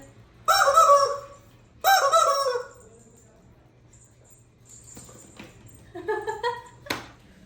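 A rooster crows loudly twice in succession, close by, followed by softer clucking and a shorter cry, over a low steady hum.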